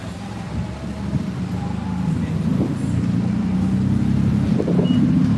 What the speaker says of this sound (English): it's so noisy here on Roosevelt Avenue and there's car traffic, it's a busy street